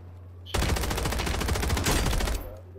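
Automatic fire from an SVA 545 rifle in the video game Warzone 3, one loud sustained burst of rapid shots lasting about two seconds, close and dominant with no talk.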